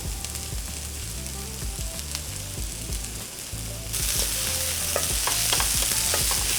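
Garlic and tomato paste sizzle in a hot pan, a dense frying hiss with scraping stirs, turning brighter and louder partway through.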